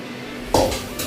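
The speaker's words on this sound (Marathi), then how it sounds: "त्यासाठी मी तवा ठेवतोय याच्यावर" An iron tava set down on a stove, one sharp metallic clank followed by a brief ringing rattle and a lighter knock, close and with no talking.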